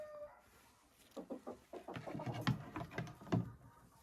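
A hen or rooster calls loudly and repeatedly inside a chicken coop, a rising series of raspy clucks and squawks close by, with no talk.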